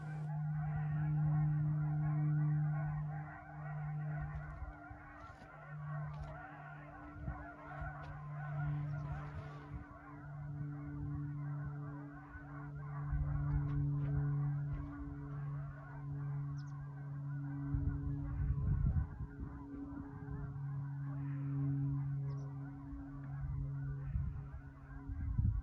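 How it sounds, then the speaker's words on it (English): A small flock of geese honks steadily as it flies over near a radio telescope. The calls are faint and distant and repeat for about twenty-five seconds with no other sound over them. "A little flock of geese came over, so I'm going to let you listen to those as they approach the radio telescope"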